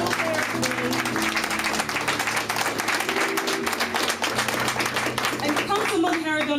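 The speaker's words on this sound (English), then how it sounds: "give a warm welcoming round of applause for our elected officials there today" Audience applause for elected officials at an NAACP Colorado, Wyoming, Montana State Conference gathering: dense, steady clapping from a large crowd fills the room, with music or background voices underneath.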